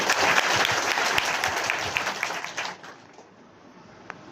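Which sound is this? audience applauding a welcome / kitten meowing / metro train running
audience applauding a welcome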